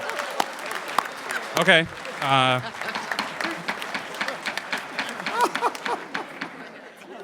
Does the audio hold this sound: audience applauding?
yes